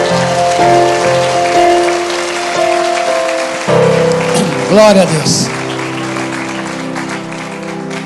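A church congregation claps for the Lord, a steady patter of applause running under a preacher's amplified voice and music.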